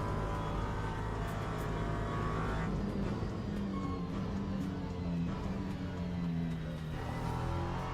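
A race car engine in the video game Le Mans Ultimate drones steadily at high revs, its pitch rising and falling slightly through gear changes, and the sound stays continuous and fairly loud throughout.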